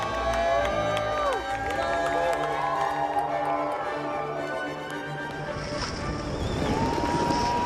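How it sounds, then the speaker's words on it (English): A crowd at the Freeride World Tour stop in Fieberbrunn, Austria, cheering and whooping at a ski event, with horns and whistles over a continuous loud roar. "you just love to hear the crowd going crazy"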